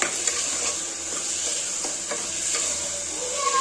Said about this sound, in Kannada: ಇದೆಲ್ಲದು ಚೆನ್ನಾಗಿ ಮಿಕ್ಸ್ ಮಾಡ್ಕೊಳ್ಳಿ.